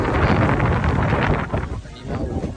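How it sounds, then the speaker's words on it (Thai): Wind gusting at a roadside shack-style food stall selling papaya salad, loud and steady broadband rush buffeting the microphone, easing briefly near the end before picking up again. "วันนี้ลมดีมากเลยอะ ลมดีมากเลยอะ"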